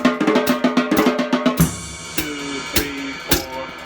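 A drum kit plays a steady pattern from a song's intro, crisp hits and cymbal-like strikes, busier at first, then sparser with sharp accents.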